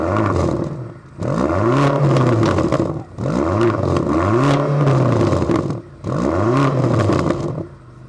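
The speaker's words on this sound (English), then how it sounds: "You can hear how the engine sounds real quick." A BMW XM Label hybrid with a V8 engine revving hard three times in a row, each rev swelling and falling back, loud and close with a harsh, rasping exhaust tone and no talking.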